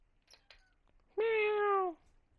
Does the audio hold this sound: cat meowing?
yes